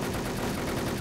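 Dense, continuous gunfire from a shooting video game fills a single second, loud and unbroken, with no talking.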